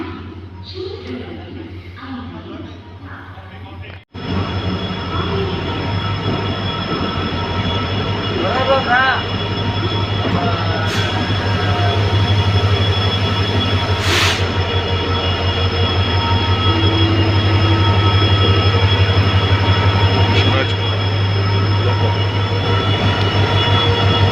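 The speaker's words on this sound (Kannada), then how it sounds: "ಒಂದು ಟ್ರೈನ್ ಬರ್ತಿದೆ." A train rolls into platform 8 at KSR Bengaluru station with a deep steady rumble, squealing wheels and rising clatter, after a brief stretch of station chatter.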